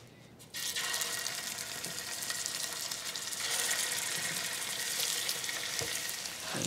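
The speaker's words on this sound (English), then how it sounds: "while the meat is browning" Meaty sides of a bone-in cut browning in a hot pan, a continuous, fairly quiet sizzle that starts abruptly and holds steady, with an occasional soft clink, no one talking.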